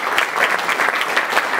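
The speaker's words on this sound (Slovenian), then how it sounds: "Naj roke zaploskajo tudi skupini Telesna vzgoja." An audience at a Slovenian business awards event applauds steadily, a dense, even wash of many hands clapping for the whole stretch.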